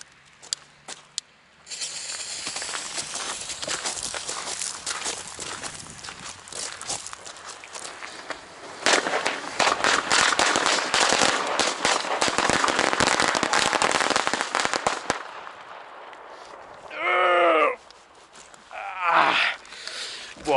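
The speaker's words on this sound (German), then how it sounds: "Steigert sich jetzt von Knallkette zu Knallkette" A chain of firecrackers (Knallkette) goes off on New Year's Eve 2018/2019, a long, dense, rapid string of crackling bangs that intensifies before ending, followed by a couple of groaning voices.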